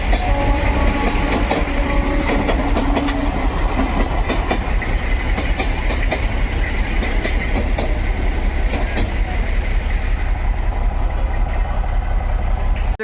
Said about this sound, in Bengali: মুর্শিদাবাদ রেল স্টেশন ঢুকছে Lalgola Ranaghat EMU special passenger